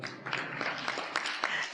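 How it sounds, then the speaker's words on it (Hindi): An audience claps steadily throughout a spiritual yoga gathering, a dense patter of many hands with a few sharper bursts, close and fairly loud. "जो नहीं करते उनके लिए और जोर ताली बजाइए।"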